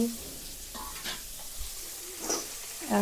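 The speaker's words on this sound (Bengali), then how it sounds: "ফুলকপি দেওয়ার পর একটু নাড়াচাড়া দিতে হবে।" Cauliflower is stirred into fried potatoes in a pan, with a low, steady sizzle and soft scraping strokes. A few quiet voices can be heard in the background.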